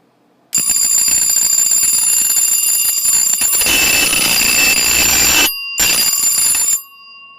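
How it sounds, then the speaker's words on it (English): A fire alarm bell, newly wired up and tested indoors, rings loud and close with a continuous metallic clatter, briefly cutting out before resuming and then stopping. "My first real fire alarm."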